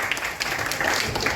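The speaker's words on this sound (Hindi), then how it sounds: "एक जोरदार तालियां हो जाए इसके लिए" Audience applause in a hall, a dense, loud wash of clapping that fills the short moment without a break.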